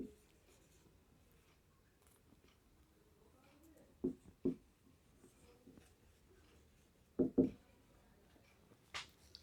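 Chalk or marker writing on a board during a lesson on useful microorganisms, a few short tapping strokes in brief bursts against a quiet room.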